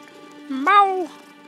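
A single meow from a cat in the video game Hogwarts Legacy, rising and then sliding down over about half a second, clear and close against a quiet background hum.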